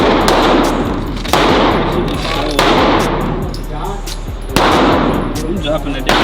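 A .22 firearm is fired at a gun range, giving sharp, loud shots in a repeating pattern with ringing tails, some heavier reports standing out among quicker pops.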